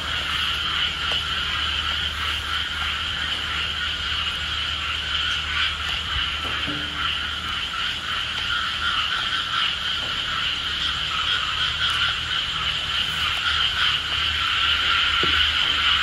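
Frogs croak loudly in a dense, continuous chorus outside an old church in Melaka, a steady pulsing drone at night with occasional sharper calls, no voices.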